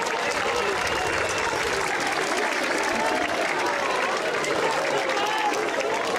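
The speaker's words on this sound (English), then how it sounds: "a bit of sarcastic applause here by Weinberg" Spectators at a school under-19 rugby match between WBHS and Bishops give a round of sarcastic applause, a steady, moderately distant clapping that runs throughout with crowd noise beneath it.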